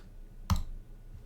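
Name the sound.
computer mouse click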